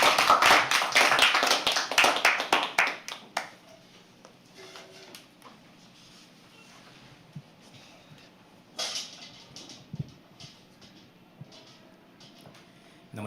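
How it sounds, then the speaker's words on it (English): Small audience clapping for a poet coming on stage at a live poetry open mic, a loud burst of many hands for about three seconds that quickly dies away into quiet room noise with a few scattered claps later. "Please keep clapping."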